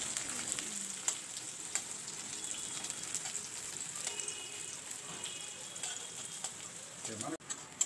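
Chopped onions fry in a pan with a faint, steady sizzle and occasional light crackles and utensil ticks, fairly quiet throughout.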